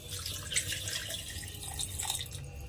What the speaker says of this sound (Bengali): কড়াটা ভালোভাবে ধুয়ে সেই জলটা আমি এর মধ্যে দিয়ে দিলাম।